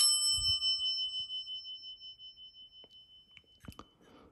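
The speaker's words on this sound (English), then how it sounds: "You hear this chime on almost any elevator." A mechanical elevator bell chime, as found on Otis, GAL and Montgomery elevators, strikes one bright metallic ding that rings on and fades slowly over several seconds, followed by a few soft handling knocks.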